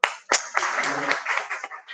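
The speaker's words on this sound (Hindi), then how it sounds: "हाँ जी, इनकी भी ताली बजाइए" An audience at a college faculty development session claps together in a short burst of applause lasting under two seconds, with a voice briefly audible at the start.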